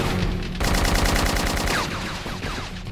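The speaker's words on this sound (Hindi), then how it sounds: "मैं तुम्हें कवर फायर देता" Dense, loud automatic gunfire laying down cover fire in a Hindi action film, with rapid overlapping bursts and a brief lull near the end.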